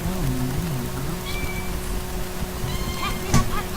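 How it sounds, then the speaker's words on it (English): A house cat gives a few wavering meows up close, with a brief louder cry near the end, over a low steady electronic hum. "I don't need her meowing in my videos either"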